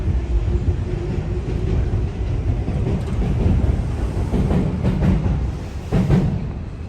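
A Tobu line train rumbles past near Asakusa, Tokyo, a loud continuous low roar with rattling wheel and carriage noise that swells midway and again near the end, no talking.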